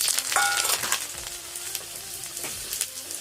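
Seven or eight cut garlic cloves are dropped into hot mustard oil and sizzle steadily and close by, with a few clinks of a ladle as the garlic is stirred.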